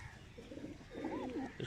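A pet pigeon coos softly a few times close by, its low rolling calls rising and falling over a faint background hum.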